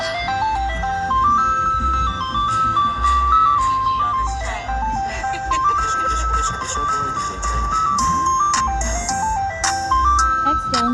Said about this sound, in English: the ice cream truck song is a good beat